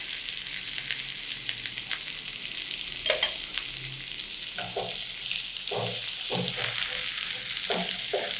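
Onion and ginger fry in a pan for a Paneer Butter Masala base, giving a steady close hiss with scraping stirs and clatter from a spoon through the second half, no voices.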